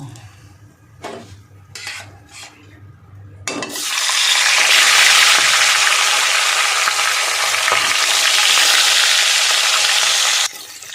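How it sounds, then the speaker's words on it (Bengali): Fish heads fry in hot salted oil, a loud, steady sizzling hiss that starts suddenly and runs for about seven seconds, preceded by a few faint clinks of kitchen utensils and ending abruptly. "সুন্দর লাল লাল করে ভেজে নিয়েছি মাথাটা"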